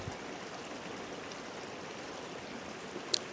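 Continuous flow of a river near a campsite, an even watery hiss, with a brief sharp click near the end.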